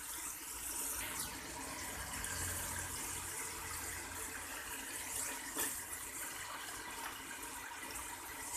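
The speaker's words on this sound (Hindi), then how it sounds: "अब मैं ये इनका पानी निकाल के इसे कोरमे में शामिल करती हूँ।" Water drains steadily from lentils soaked three to four hours before going into a mutton haleem, a continuous close trickling and gushing with no voices.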